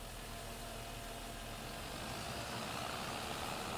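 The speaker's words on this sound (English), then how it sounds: "So I'll now jump on the John Deere tractor." A John Deere tractor engine in a farming video game runs with a steady, unbroken mid-to-low drone at a quiet, even level, with no voices.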